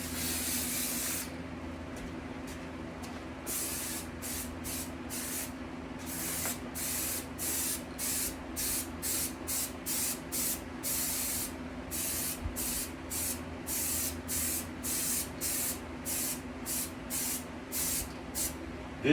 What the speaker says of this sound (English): This is a spray adhesive for upholstery.